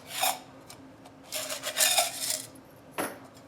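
Heavy duty aluminum foil is handled up close, giving a few crisp crinkling and rustling bursts with quiet pauses between them.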